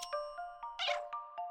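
Cat in A Little to the Left giving a short, bright meow among a run of regular tinkling chime taps, all close and clean with no voices.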